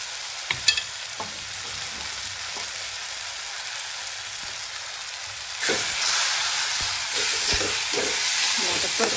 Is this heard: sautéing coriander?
yes